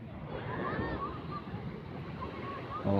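Waves washing on a seashore at low tide, a continuous rushing surf mixed with wind buffeting the microphone, fairly close and steady, with faint voices in the background.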